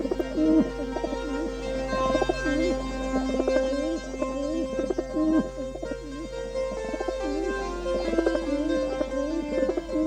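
Soft pigeon cooing rolls on steadily over a low, sustained drone, with repeated warbling coos throughout and no voices.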